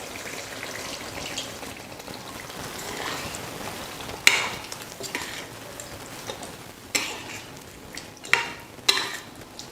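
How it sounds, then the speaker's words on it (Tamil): Chicken curry being stirred in a pot right after coconut milk is poured in, a soft continuous bubbling and scraping with several sharper clinks of the spoon against the vessel, no voices. "தேங்காய் பால் சேர்த்ததுக்கப்புறம் நல்லா கலந்து விட்டுடுங்க"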